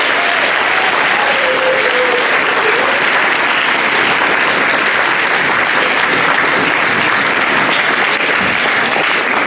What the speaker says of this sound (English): A round of applause for our professors.